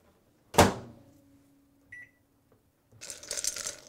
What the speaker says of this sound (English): We're going to put it back in the microwave and we're going to just keep doing this.